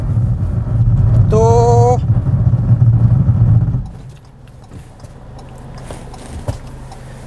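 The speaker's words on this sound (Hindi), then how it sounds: "70 की स्पीड में और मैं ब्रेक दबा रहा हूँ।" A Ford EcoSport braking hard from 70 km/h, loud road and engine roar with a brief rising tonal squeal, then the noise dropping sharply as the car stops; someone speaks briefly.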